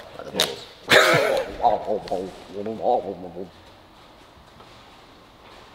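A person vocally imitates the bubbling of a boiling kettle with a burst of rapid, gurgling mouth sounds, fairly loud and close, followed by quiet room noise.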